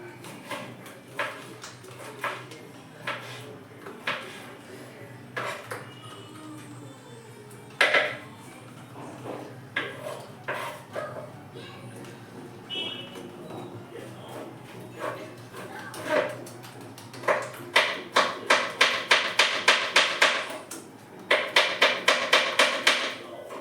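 Egg mixture with green chili and coriander being whisked in a bowl at home, a busy run of rapid clinking strokes that grows denser and louder toward the end, with scattered knocks and clatter between.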